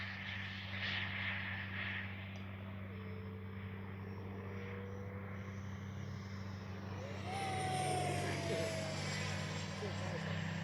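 A Freewing 70mm F9F-5 Panther electric ducted-fan RC jet flies overhead with a steady whining roar that swells as it passes, heard over outdoor background with someone talking.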